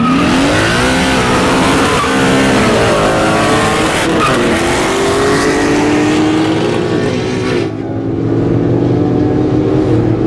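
BMW M4, Mercedes ML AMG and ten-speed Mustang accelerating hard side by side in a street race, loud close engine roar climbing through gear shifts with a brief dip before pulling on.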